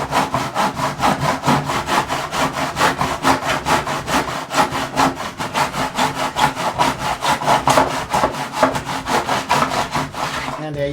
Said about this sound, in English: And I'm just going to saw.